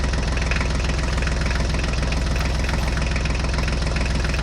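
A farm tractor engine idles steadily nearby, a loud, even low chugging throb with a knocking rhythm that holds unchanged throughout, with no voices.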